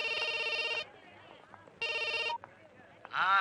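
A telephone rings in a Telugu comedy scene with two loud electronic ring bursts separated by a pause. Quieter background sounds fill the gap and a voice rises at the end.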